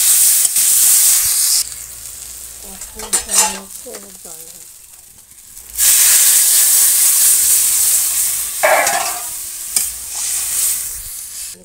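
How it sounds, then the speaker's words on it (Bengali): Loud bubbling and hissing from a pot of watery, spice-paste curry broth for katla fish at a boil, with a quieter stretch of clinks and stirring in the middle. "জল ঝোল ফুটছে"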